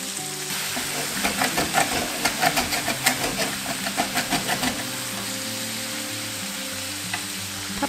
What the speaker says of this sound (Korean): 한번 휘리릭 볶아준 뒤